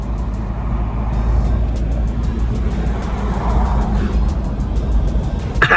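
A Mahindra Scorpio S11 car drives along a highway, with a steady, close rumble of engine and road noise under a faint, rhythmic ticking.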